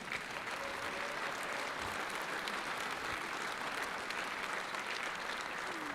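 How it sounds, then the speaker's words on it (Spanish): Sustained audience applause at an academic law lecture, a steady dense wash of clapping from a seated crowd lasting the whole stretch without letting up, with no voices rising above it. "Esa ovación para nuestros ponentes, por favor."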